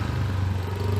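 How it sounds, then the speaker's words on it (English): A motorcycle with a properly loud modified exhaust, apparently a 50cc engine, rumbles steadily and close in busy Jakarta traffic, a continuous low droning growl with no talk. "That looks like a properly loud exhaust."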